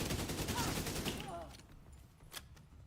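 Automatic assault rifle fire in The Division 2, a dense burst of rapid shots over the first second and a half that then cuts off, leaving quieter game sounds and one short later report.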